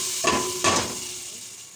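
Tempering with cumin hits cooked moong dal in two sharp, loud sizzling bursts, each fading into a softer hiss.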